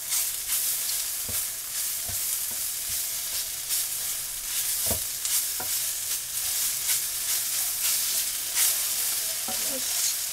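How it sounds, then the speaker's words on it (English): Flour is stirred into hot oil in a pan for Salisbury steak gravy, a constant sizzling hiss with scattered scraping and clinking strokes of a spoon against the pan. "Just stirring that in so all that oil's absorbed into the flour."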